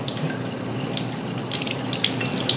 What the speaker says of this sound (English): Rinse the rod off,